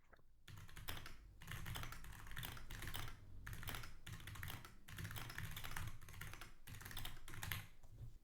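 Rapid, steady clatter of a computer keyboard during a timed typing test, dense keystrokes running in bursts with a few short pauses, close and fairly loud with no talking.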